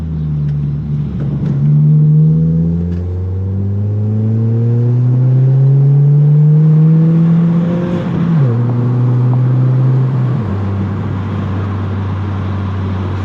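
A Toyota Corolla Hatchback fitted with a 2J Racing catback exhaust revs and downshifts from inside the cabin, the engine note climbing through a gear, blipping sharply, then settling into a steady, loud drone with no talk.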